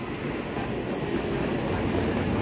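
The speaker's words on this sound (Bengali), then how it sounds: "এই যে দেখো ট্রেন চলে এসছে ভাই" Local train rumbling into a station platform, a dense continuous roar of wheels and carriages close by, with faint clatter and squeal over the steady noise.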